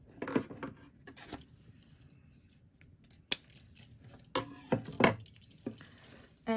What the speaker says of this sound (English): First, we cut a wire with 7 inches.